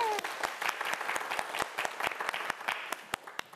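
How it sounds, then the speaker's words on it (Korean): A studio audience at a televised Korean quiz show breaks into brisk, steady applause of many hands, moderately loud and continuous, with no voices over it. "여러분 박수 한번 보내주세요"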